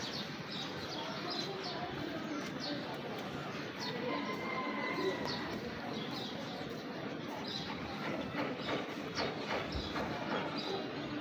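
Birds on a rooftop, with scattered chirps and calls rising over a dense, steady wash of outdoor background noise that runs continuously throughout.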